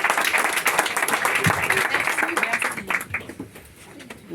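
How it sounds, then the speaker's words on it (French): Lively clapping from a small audience at a business growth and financing event, close and fairly loud, thinning toward the end, with a few voices mixed in. "On va applaudir quand même Guillaume."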